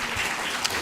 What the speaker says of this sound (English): Can we just give them an applause?